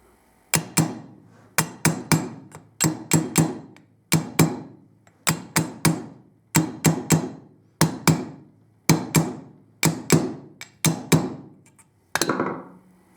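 A hammer repeatedly strikes down a motorcycle head stock bearing, giving about a dozen loud metallic blows in quick pairs and triplets with short pauses between groups, close and alone with no talking.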